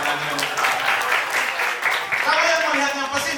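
Audience at a school character-building talk claps in a dense, steady burst of applause, loud and near, with speech and voices mixed in over the clapping.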